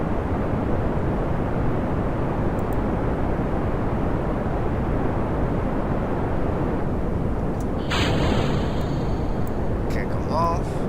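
Rocket engines roaring at full throttle in Kerbal Space Program, a loud, steady broadband rumble that holds for the whole stretch, with brief higher tones and a short burst of clicks near the end.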